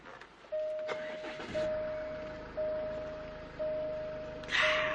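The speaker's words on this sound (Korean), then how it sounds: "바로 시동부터 한번 걸어보도록 할 건데 당연히 스마트 키로 구성되어 있고요" A Jaguar sedan with smart-key ignition cranks and fires up at close range, engine catching with a surge and then settling to a steady idle, while a repeating electronic chime pulses over it throughout.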